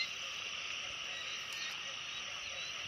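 A dense chorus of frogs croaking after rain, a steady, continuous trill that carries on without pause and with no voices over it.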